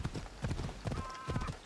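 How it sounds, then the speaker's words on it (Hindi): A horse gallops in Assassin's Creed Odyssey, with a steady, rhythmic clip-clop of hooves, close and moderately loud, and a brief tonal game sound partway through. "अबे इतना कितना तेज घोड़ा है ये"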